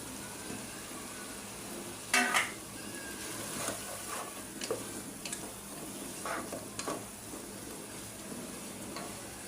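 Capsicum and onion are stir-fried in a pan for chow mein, giving a soft, steady sizzle close by with occasional scraping clatters of the stirring utensil and no talking.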